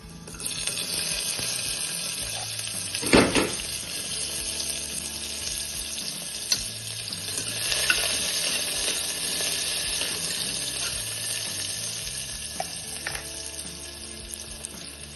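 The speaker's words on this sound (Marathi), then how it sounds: "लसूण आणि मिरची चांगल्या लालसर झालेले आहे, त्यामध्ये मी हा बारीक चिरलेला कांदा टाकून घेते।" Finely chopped onion sizzles in oil with browned garlic and green chillies, a continuous close frying hiss with a sharp clatter or splash near the start and small stirring knocks throughout.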